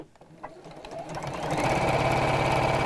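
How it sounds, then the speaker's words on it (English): A sewing machine starts up and runs at a rapid, steady clatter, topstitching along the seams of a fabric book cover. The stitching grows louder over the first second and a half and then holds even, close up. "And then I'll top stitch along each one of those seams."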